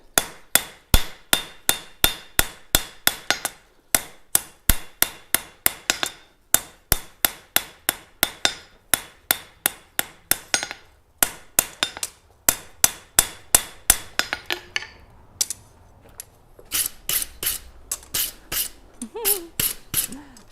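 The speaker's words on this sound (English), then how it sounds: "forging a knife for the first time ever" A knife blade is forged under a hammer at a gas forge, ringing in a long, steady series of sharp, loud metallic blows at close range, with brief pauses and a few quicker bursts toward the end.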